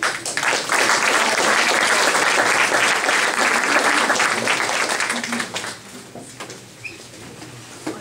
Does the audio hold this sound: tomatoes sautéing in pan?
no